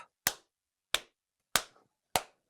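Four sharp hand claps at an even, slow pace, each crisp and close with a quick decay into silence, heard alone with no talking.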